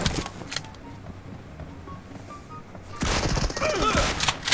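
Bursts of gunfire from a gun in the PUBG video game crackle loudly and densely over the last second and a half, with quieter game ambience before.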